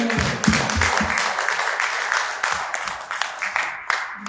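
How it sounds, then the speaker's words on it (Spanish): A church congregation applauds for the Lord in a steady wash of clapping, with a voice speaking over it near the start. "Un aplauso para el Señor."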